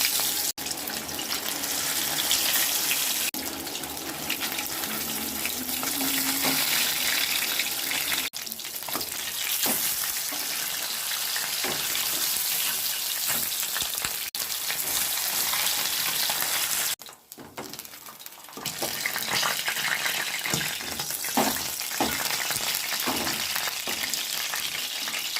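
Fish pieces frying in hot oil in a kadai, a loud continuous sizzle and bubbling that briefly drops away around the middle, then resumes with scattered crackles and clinks.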